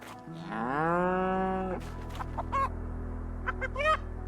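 Farm animals in the video game I Am Jesus Christ: a long, drawn-out cow moo is followed by several short, clucking calls from chickens, all close and clear.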